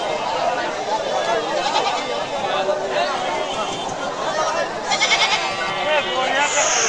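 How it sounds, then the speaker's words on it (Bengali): Native-breed goats bleat at a busy livestock market, their calls rising now and then over steady crowd chatter and people talking close by. "সম্পূর্ণ দেশি জাতের ছাগল"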